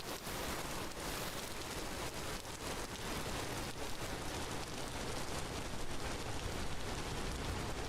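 Steady, dense rain falls in the block-built survival game Vintage Story, an even broadband hiss of drops on surfaces holding constant throughout with a few faint crackles and no voices.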